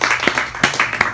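A small group gives a round of applause, a few uneven, scattered hand claps close by over a second or so.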